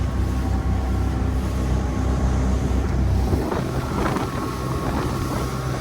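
A steady outboard engine on a Quicksilver 705 Open motorboat drones on continuously with wind and water rushing over it, loud and close, with no voices.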